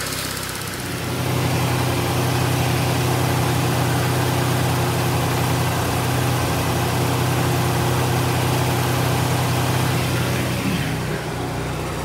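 A Peugeot 406 engine idles after a crankshaft seal replacement, giving a steady, close, low rumble with an even hum that stays constant throughout, with no voices.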